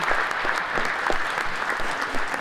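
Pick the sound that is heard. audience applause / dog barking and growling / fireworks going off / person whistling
audience applause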